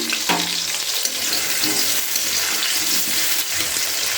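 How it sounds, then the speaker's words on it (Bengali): Potatoes fry in hot oil in a pan, a loud, dense, continuous sizzle with crackles close by and no talk. "আলুটাকে আমি ভাজতে দিয়ে দিলাম"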